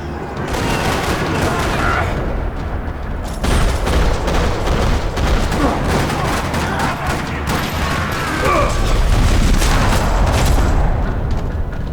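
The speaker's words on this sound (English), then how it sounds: "Another parking lot rattling with gunfire." Sustained, dense gunfire rattles nonstop with booming bursts, loud and close, a chaotic firefight in a parking lot in the video game Max Payne 3.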